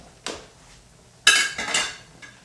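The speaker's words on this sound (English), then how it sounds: "We just want to keep on stirring it, keep it going nice." Metal utensil scraping and clanking against a cooking pot, a few distinct knocks and swishes of stirring, close and clear with no talking.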